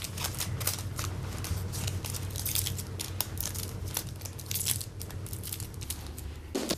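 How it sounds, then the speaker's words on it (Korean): Clear plastic vinyl wrap being folded by hand with glue in home piecework packaging, a steady, even crinkling and crackling that repeats in a regular rhythm, close and continuous with no voices. "비닐을 접는 소리마저 일정한 거 느껴지시죠?"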